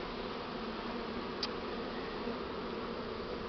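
A swarm of Buckfast bees settles into a hive, making a steady, fairly close hum and buzz throughout, with no talk over it.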